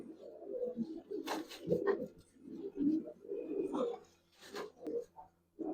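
Old-breed Giribaz and Palla line pigeons coo in low, throaty bursts, several birds overlapping in a close, steady murmur with brief pauses.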